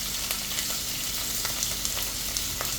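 Dried fish frying in hot oil, a steady close crackling sizzle with scattered sharper pops throughout, no voices.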